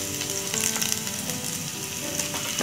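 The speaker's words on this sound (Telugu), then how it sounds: "వేసుకొని 1 మినిట్ మనం ఫ్రై చేసుకుందాము." Onion pieces and green chillies frying in a pan for masala pasta, giving a bright, constant sizzle with a few soft stirring taps, close and alone.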